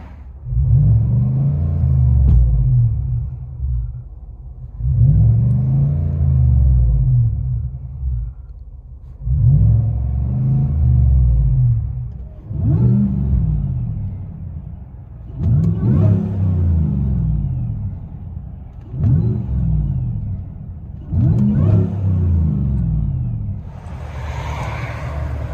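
Inside the cab of a Chevy/GMC High Country with a 6.2-liter V8, the engine revs repeatedly in a steady pattern of about seven deep, booming bursts, each rising and falling, loud and close with no talking.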